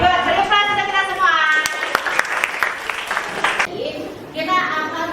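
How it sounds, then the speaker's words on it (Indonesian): A class claps together in a burst of applause after a teacher's counting exercise, with spoken voices before and after and some children's voices mixed into the clapping. "Beri aplaus untuk kita semua."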